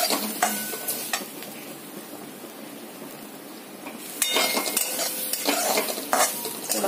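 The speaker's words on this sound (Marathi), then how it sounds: "त्याच्यामध्येच हे ओलं खोबरे परतवून घेणार आहे।" Fresh grated coconut with dry fruits and white sesame seeds being stirred and sautéed in a pan for sweet coconut modak filling, giving a steady soft sizzle with scraping stirs that grow busier and louder in the second half, no voices.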